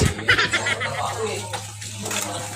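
Dishes are washed under running water, giving a steady wet splashing and clinking while people talk over it.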